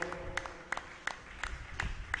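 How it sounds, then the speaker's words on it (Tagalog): Congregation clapping together in a church service in San Carlos City, Pangasinan, a steady rhythmic beat of sharp claps about three per second that runs throughout. "Palakpakan po natin ang malakas ng ating mahal na Panginoon."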